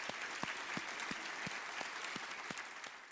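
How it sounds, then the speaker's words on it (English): Audience applause for a country music entertainer, a continuous patter of many hands with a few sharper, distinct claps standing out regularly above the crowd. "Give him a nice round of applause."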